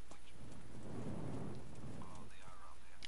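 Rain pours steadily in the video game Kingdom Come Deliverance while a low roll of thunder swells and fades behind it, all soft and quiet with no talk.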